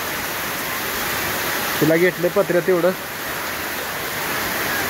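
Heavy rain pours onto a tin-sheet cattle shed as water runs off, a dense steady roar that continues throughout while a person speaks briefly midway.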